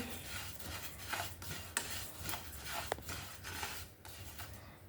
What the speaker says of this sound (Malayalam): ഇനി നമുക്ക് എള്ളൊന്ന് വറുത്തെടുക്കാം കേട്ടോ രണ്ടും ഇതേപോലെ നല്ലോണം വറുത്തെടുക്കാം